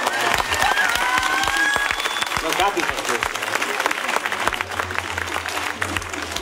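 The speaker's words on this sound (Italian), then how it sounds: "Facciamo un applauso al pubblico" Audience applause at a school musical theatre performance, sustained dense clapping close by with a voice speaking briefly over it, thinning slightly toward the end.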